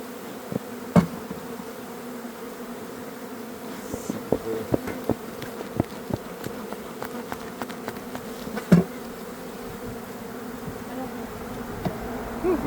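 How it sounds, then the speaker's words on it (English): Honeybees buzzing densely around an open hive during a colony split, a constant close drone with occasional sharp knocks and clicks of hive equipment. "this hive has a ton of bees in it already"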